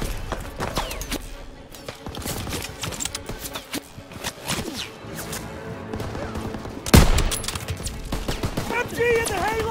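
Machine gun fire and scattered gunshots crackle through a Call of Duty: WWII D-Day battle, rapid bursts mixed with explosions and a loud blast near the end, with shouted voices underneath.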